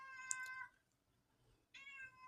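A cat meows twice up close, two clear, drawn-out cries separated by about a second of near silence.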